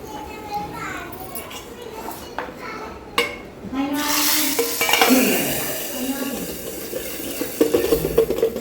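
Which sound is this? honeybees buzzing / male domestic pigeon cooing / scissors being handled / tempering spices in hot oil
tempering spices in hot oil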